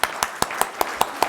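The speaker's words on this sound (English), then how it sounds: "why don't we just give him a round of applause for all the work" Sharp, evenly spaced claps ring out in a steady rhythm, about seven in quick succession, close and fairly loud over a faint background hiss, at a commercial real estate meeting.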